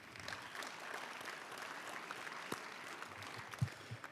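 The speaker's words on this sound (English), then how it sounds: "Everybody give yourselves a round of applause." An auditorium audience applauds, a steady faint patter of many hands heard from a distance with no talk over it.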